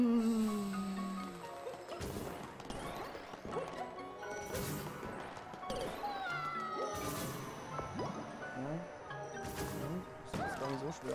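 Cartoonish cat meows from Super Mario 3D World repeat among game music and bright crashing effects, several short mews scattered across the busy mix at moderate loudness.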